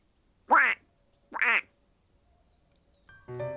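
A person imitates a duck, giving two loud nasal quacks about a second apart, followed after a pause by a brief buzzy vocal sound.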